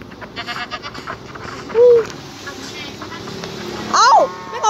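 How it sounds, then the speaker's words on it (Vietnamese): Goats bleat in the countryside near a sandy area, with a short bleat partway through and a longer wavering cry later, heard over steady background talk and outdoor noise. "tôi dụ dê luôn á"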